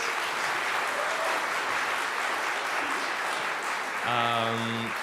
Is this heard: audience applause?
yes